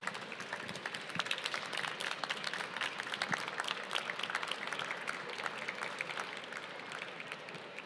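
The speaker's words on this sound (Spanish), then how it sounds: "Un fort aplaudiment." A crowd at a Barcelona manga convention applauds for a Godzilla anniversary panel, a steady, dense roar of many hands clapping for several seconds, fairly faint and distant, with no voices on top.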